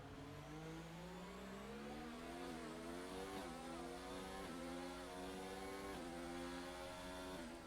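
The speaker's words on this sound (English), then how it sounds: "Extracting all the power he can out of that Mercedes engine" Mercedes racing engine in an Xbox racing game, roaring loudly and continuously with rising revs through several gear changes, steady and close with no talk.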